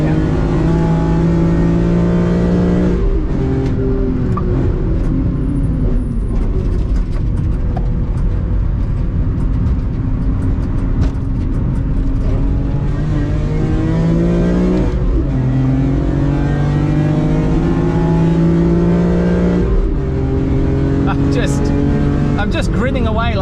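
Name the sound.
BMW M3 CSL engine revving on the Nürburgring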